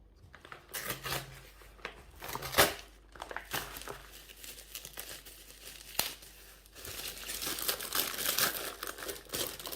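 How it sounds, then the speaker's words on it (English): A paper shipping bag and bubble wrap crinkle and rustle in bursts as a package is unwrapped close by, with sharper crackles scattered throughout. "Out of the paper bag it was shipped in, wrapped in bubble wrap"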